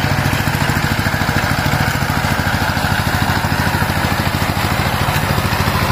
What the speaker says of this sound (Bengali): ওই যে টিলারের ওই বিলেট ঘুরছে আর এই পিছনে বাটুই দিচ্ছে, বুঝলেন কত সুন্দর।